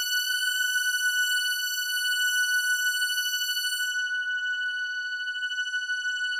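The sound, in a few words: synthesizer tone with unison detuning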